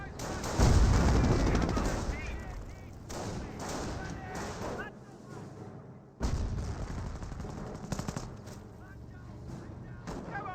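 Rifle and machine-gun fire with artillery booms in a Company of Heroes battle as Panzer Grenadiers engage at range, dense overlapping bursts under a commentator's voice.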